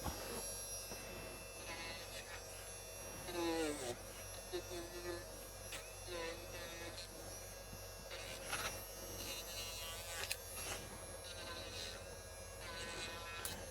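A rotary tool spins a polishing wheel against an airbrush needle, giving a steady, faint electric whine and buzz with a low hum beneath, broken now and then by brief rises in pitch.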